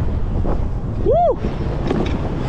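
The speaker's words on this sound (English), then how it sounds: "Windy out here today." Strong wind buffets the microphone during an e-bike ride in Philadelphia, a constant low roar, joined by a brief rising-and-falling whistle-like tone near the middle.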